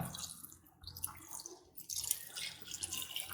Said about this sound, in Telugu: ఇప్పుడు వాటర్ యాడ్ చేసుకుందాం